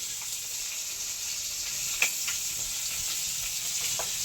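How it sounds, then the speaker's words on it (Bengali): Fish frying on a traditional clay stove: a steady, close hissing sizzle runs throughout with a few brief pops and crackles. "মাছ ওই যে দাদু যে মাছ ধরেছিল সেই মাছটা ভাজা চলছে।"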